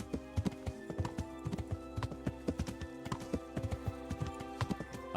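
A horse's hooves clip-clop at a steady walking pace on a road in a medieval game world, each footfall crisp and close, with no talking.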